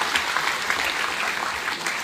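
An audience claps steadily at a foundation day gathering in a town hall, a dense, even wash of applause that carries on throughout.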